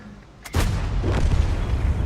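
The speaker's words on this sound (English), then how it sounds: "Tried a blind shot at where the enemy have lost the light tank." A tank cannon fires a single blind shot in World of Tanks, an American T32 or T29 heavy tank in action: a sudden loud, deep boom followed by a sustained rumbling roar and engine noise.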